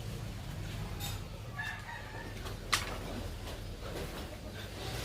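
Chickens on a Bukidnon farm during a September corn harvest, a rooster crowing and hens clucking at a distance over steady low rumble, with one sharp close click midway.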